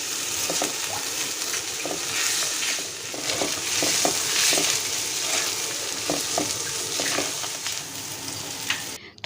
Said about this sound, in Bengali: 7 মিনিট ভেজে নিব ঘি এবং তেলের মধ্যে